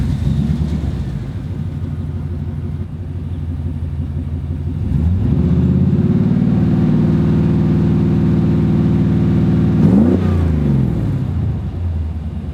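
A 1989 Chevrolet Suburban engine breathing through a Borla Pro XS muffler with 3-inch inlet and dual 2¼-inch outlets, idling with a deep burble, then revving up into a loud sustained drone and dropping back.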